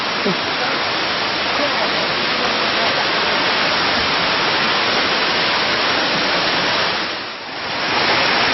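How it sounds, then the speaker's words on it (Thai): Upper tier of a tall waterfall pouring down, a loud, dense and unbroken roar of rushing water heard close up, briefly dipping near the end. "นี่คือตัวน้ำตกฝ่ายลงครับ ซึ่งอยู่ชั้นบน"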